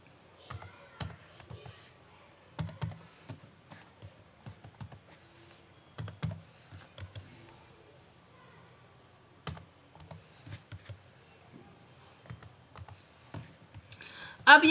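Keys tapped on a computer keyboard while entering records into an Excel spreadsheet, in short irregular bursts of clicks with quiet gaps between them, heard up close.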